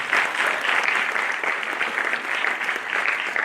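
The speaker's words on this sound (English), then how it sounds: "Second round of applause for all the students who have come to attend the hearings." An indoor audience at a board-exam guidance event applauds the students, producing a dense, sustained burst of many hands clapping together at close range, with no voices on top.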